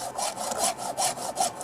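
A file is drawn across a chainsaw blade's teeth in quick, repeated rasping strokes, close-up and steady, about four or five strokes in under two seconds.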